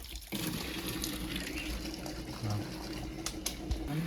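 Water runs from a tap as a container is filled outside a monastery, making a soft, steady trickling rush with slight gurgles, fairly quiet and continuous, with no speech.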